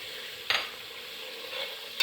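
Dried fruit and fennel seeds hitting a hot pan and frying, a soft steady sizzle with a sharp clatter as they drop in, a brief stirring swell later and another scrape at the end.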